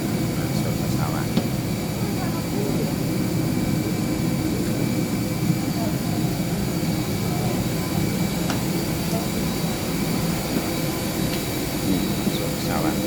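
Airplane at Bali's Ngurah Rai airport during boarding, a steady, loud broadband engine roar that continues without a break, with people talking over it.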